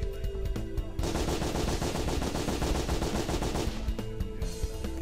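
Bullet Dance, a gun attack in the game Shut up and Jam Gaiden, fires a rapid machine-gun burst lasting about three seconds, framed by short game sound effects before and after, loud and continuous with no talking.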